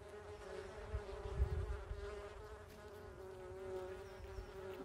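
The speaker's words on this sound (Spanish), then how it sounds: "Hay abejas ahí." Bees buzzing outdoors around old western ruins and mines, a steady droning hum that stays continuous and moderately close throughout, with no talking.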